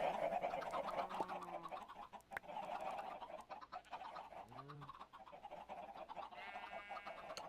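Chickens cluck in a modded Minecraft farm, with several short, clucking calls scattered across a steady backdrop of game music and ambience, moderately loud and without talking.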